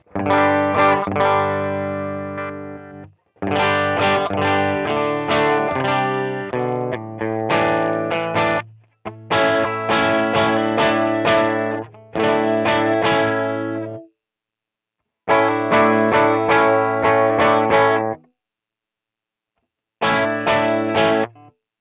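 Electric guitar played through a Line 6 Helix 3.50 cab impulse response with a distorted, chorused tone, loud strummed chords and riffs in several bursts separated by short silences.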